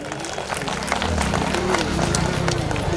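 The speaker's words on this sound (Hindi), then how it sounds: "एक बार जोरदार ताली बजा दे।" A crowd at a community youth gathering claps loudly and steadily, a dense continuous wash of applause with a voice faintly audible beneath it.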